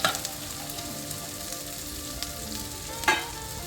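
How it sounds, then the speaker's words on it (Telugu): Onions, garlic and mustard seeds sizzle steadily in a hot pan, a continuous close frying hiss with a few brief stirring clatters and no talk. "ఇప్పుడు ఉల్లిపాయలు బ్రౌనిష్ కలర్ వచ్చేంత వరకు మనం ఫ్రై చేస్తాం."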